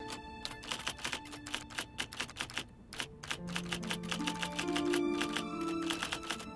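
Rapid typewriter keystrokes clatter in uneven bursts with carriage-like pauses, joined midway by a sustained tonal hum, from a scene in The X-Files episode 'The Red and the Black'.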